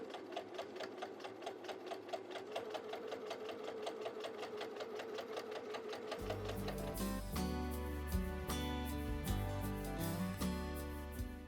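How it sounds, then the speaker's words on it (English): A sewing machine stitches ric rac trim onto a hem, its rapid even needle ticking running steadily, with louder fuller machine noise and thumps joining partway through. "Once I'm happy, then I can stitch on my Ric Rac."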